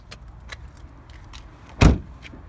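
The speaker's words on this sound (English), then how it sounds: "Lock the car with a central locking from the inside." Inside a silver 2014 Peugeot 208 1.2 VTi, the central locking engages with a single loud, close thunk after a few faint clicks and rustles.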